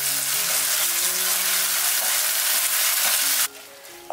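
Filling for Cantonese fried glutinous rice dumplings stir-fried in a pan with soy sauce, oyster sauce and starch water, giving a steady close sizzle that cuts off abruptly near the end.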